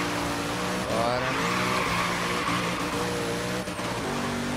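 Zenvo ST1 engine in Forza Horizon 3, a loud continuous racing drone with shifting revs and a brief stumble, steady and close throughout with some tire noise.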